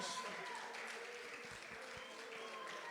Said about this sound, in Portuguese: Bate as palmas bem forte para Jesus nessa tarde.